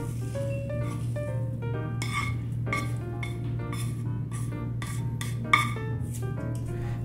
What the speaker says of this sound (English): Transfer it to a serving dish.